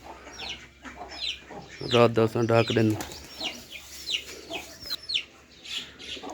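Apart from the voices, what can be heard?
chickens and rooster clucking in village coop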